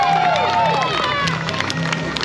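Crowd at a county fair pig race claps and cheers steadily throughout, with an announcer's amplified voice speaking over the applause.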